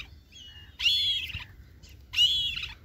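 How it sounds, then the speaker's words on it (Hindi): A kite, a bird of prey, gives two long shrill screeches about a second and a half apart, fairly clear against a quiet background with no speech. "देखो वो चील चिल्ला जा रहा है"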